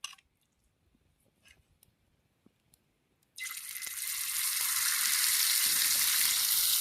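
After about three quiet seconds with faint clinks, pieces of murrel fish hit hot oil and break into a loud, bright, steady sizzle that keeps building and holds to the end.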